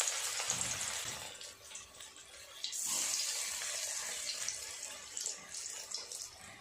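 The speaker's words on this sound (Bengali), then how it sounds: "তেলটা গরম হয়ে গেছে, অল্প অল্প করে দিয়ে আমি বড়া করে নেব" Prawn fritters made from large shrimp in batter sizzle in hot oil, a steady bright hiss with crackling pops running throughout, close and fairly loud, no talk over it.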